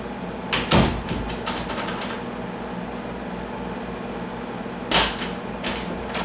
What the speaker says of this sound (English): Here, I'm locking the door.